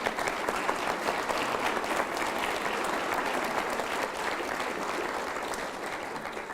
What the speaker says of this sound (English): That's a really well-deserved round of applause